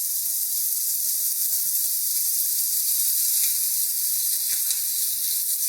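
Onions sizzle steadily in hot oil in a pan, a loud continuous frying hiss with a few faint clinks and stirring sounds, no voices.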